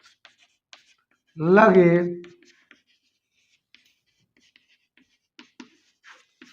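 A teacher writes out a maths solution on volume and surface area; soft scratchy strokes tick on and off around a single short spoken word.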